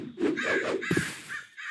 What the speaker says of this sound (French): il y a des corbeaux autour de moi